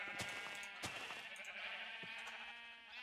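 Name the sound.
sheep bleating in Minecraft video game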